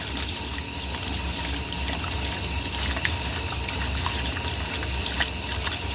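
Water splashes and trickles steadily as it overflows inside a 1964 Speed Queen A49 washing machine, a continuous close liquid wash with no voices.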